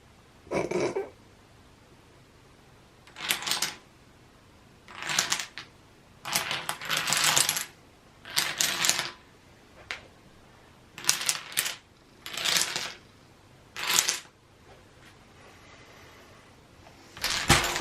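Dominoes topple in a series of short clattering bursts, about ten separate runs of rapid ticking spread out with quiet pauses between them.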